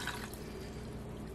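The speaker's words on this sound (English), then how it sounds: "You just add water" Water is poured into a stovetop simmer pot for Christmas decorating in a short, steady splashing pour that sounds close and fills the whole moment.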